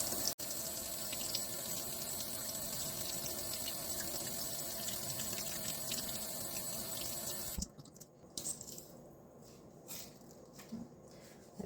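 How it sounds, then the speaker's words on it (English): Rabbit feet being rinsed under a running tap, with a continuous close splash of water for about seven seconds, then broken drips and handling noises as the flow stops. "And then you're going to rinse it as thoroughly as you possibly can."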